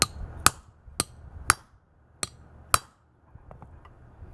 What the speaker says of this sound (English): So I'm going to hit with a hammer.